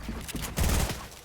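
A short burst of rapid gunfire in Fortnite Battle Royale, a dense, muffled fusillade of shots lasting about a second.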